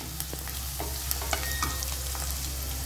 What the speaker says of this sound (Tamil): இப்போ இது ரெண்டையும் கொஞ்சம் வதக்கலாம்.